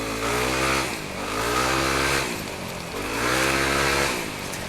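Riding a motorcycle on a wet road with a helmet and secondary visor: a steady, broad wind rush fills the helmet while the engine rises and falls in smooth revving waves, loud and close, with no talking.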